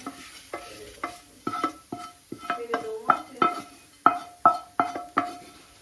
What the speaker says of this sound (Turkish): şöyle pirincimi kavurdum soğanla beraber tavamda